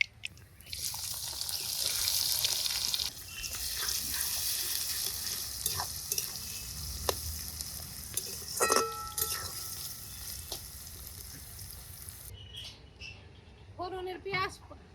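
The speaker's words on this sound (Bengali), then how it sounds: "ফোড়নের পেঁয়াজ ভাজতে ভাজতে তো দেরি হয়" Chopped onion fries in hot oil with bay leaf, dried red chilli, cumin, cardamom and cinnamon, a continuous sizzle with stirring scrapes and clatters, fading later as a voice speaks briefly near the end.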